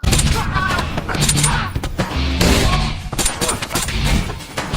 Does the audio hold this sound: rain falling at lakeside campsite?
no